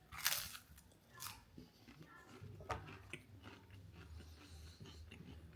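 Someone eats a rice cake snack topped with peanut butter and dates, with a few soft, close crunchy bites followed by quiet chewing.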